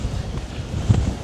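Strong wind blowing at the seaside on a blustery afternoon after rain, a brief rough buffeting roar close to the microphone with no voices.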